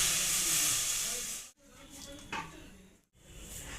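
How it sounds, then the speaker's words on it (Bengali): Water coming to a boil in a wok (kadai), a steady loud hissing, bubbling rush that cuts out twice briefly, with a faint voice in the background. "দেখুন পানিটা এবারে ফুটে উঠেছে।"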